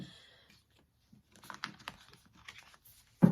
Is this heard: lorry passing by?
no